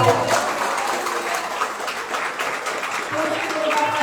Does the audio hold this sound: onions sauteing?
no